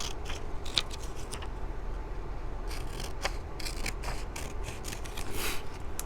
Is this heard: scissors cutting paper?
yes